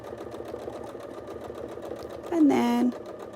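A sewing machine stitches in a steady fast rhythm for free-motion quilting, with a louder motor burst near the end. A person talks over it.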